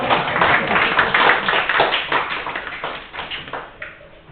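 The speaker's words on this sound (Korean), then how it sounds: "박수로 마무리하겠습니다." An audience claps together to close a discussion session at a district training council meeting, a busy patter of many hands that swells early and then thins out over a few seconds.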